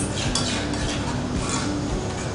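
A utensil scrapes and clinks against a bowl in quick, continuous strokes, stirring raw tomato sauce with salt, sugar, fresh thyme and garlic for a Margherita pizza, close and steady with no talk.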